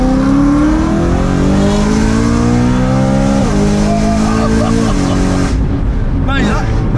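A car engine revs hard and accelerates with rising, stepped gear pulls, followed by a short tyre squeal near the end, loud and close from inside the cabin, with people talking over it.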